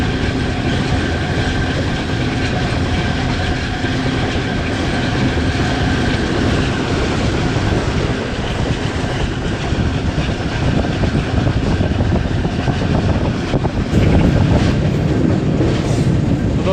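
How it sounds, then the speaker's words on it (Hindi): Karachi Express hauled by an AGE30 Blue Tiger diesel locomotive cruising at about 108 km/h toward Khanewal, a steady loud rumble of rolling wagons with rhythmic wheel clatter throughout, briefly surging near the end. "108 किलोमीटर फी घंटे की रफ्तार से क्रूज़ कर रहा है AG30-60007"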